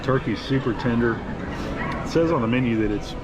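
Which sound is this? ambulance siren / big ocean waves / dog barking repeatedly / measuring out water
dog barking repeatedly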